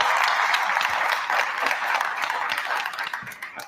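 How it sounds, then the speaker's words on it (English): Audience applause at a town board meeting, a steady wash of clapping from a room of people, fairly close and fading slightly toward the end. "Let's give him a round of applause."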